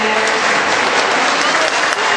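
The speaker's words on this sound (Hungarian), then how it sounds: "Kérünk szépen egy nagy tapsot a jégkirálynőnek." Audience clapping steadily at a children's carnival costume parade in Hungary, dense and close for the whole stretch, with a few voices faintly mixed in.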